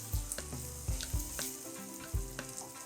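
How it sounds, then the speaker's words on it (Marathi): Mashed roasted potatoes stirred in a hot pan: low sizzling with a few thudding spoon strokes and scrapes recurring about once a second, close and fairly loud. "आता हे सगळं छान मिक्स करून घ्यायचं आहे आपल्याला."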